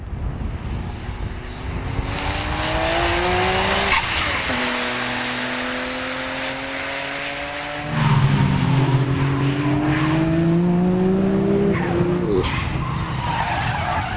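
Tuned Nissan GT-R with HKS turbos driving hard and spinning out, its engine note rising and falling in loud sweeping revs with tire screech and a sudden shift in tone mid-spin, no speech.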